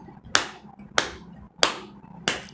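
Bare hands clapped firmly during a yoga routine for back-pain relief, four sharp, evenly spaced claps about two-thirds of a second apart, close and clear in a quiet room.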